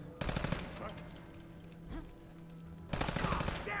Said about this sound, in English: I love the 10mm SMG. It's such a good gun.